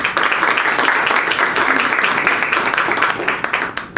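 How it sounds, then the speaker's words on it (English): Applause breaks out for community hosts at a talk by a state representative, with many hands clapping in a dense, sustained burst that begins to thin toward the end. "let's give them a round of applause"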